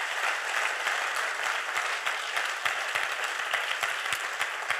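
Congregation at a French-speaking Christian church service applauding and cheering for the Lord, a dense, steady wash of many hands clapping at once, loud and sustained without letup.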